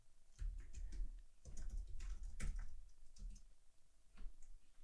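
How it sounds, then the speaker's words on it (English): Short bursts of computer keyboard typing as a command is entered, close and fairly quiet with a steady background hum and no talking. "So I type in py."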